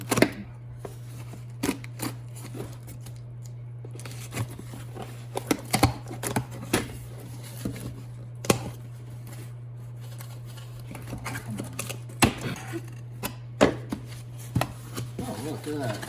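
A Smith & Wesson knife slices open the box of a Samsung Galaxy Note 10+, with scattered sharp cuts, scrapes and taps heard up close over a steady low hum.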